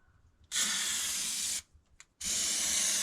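Aerosol can of floor sealant sprayed on a Jeep XJ floor repair, two loud sustained hissing bursts, about a second each, with a brief sputter between them and no talking.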